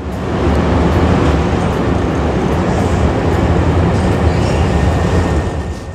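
A Hankyu 5300 series commuter train, set 5311, on the Kyoto Line, a steady loud rumble and whoosh of the electric train moving through, with no voices.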